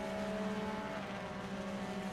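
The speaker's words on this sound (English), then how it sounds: "I can hear his exhaust spluttering, I can hear a bit of a wind effect" A race car in the Assetto Corsa driving game gives a faint, steady engine drone with a rough, spluttering exhaust edge throughout.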